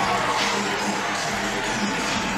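Home crowd at a Georgia women's college softball game against Florida, a dense, steady roar of stadium noise filling the space with no single voices standing out.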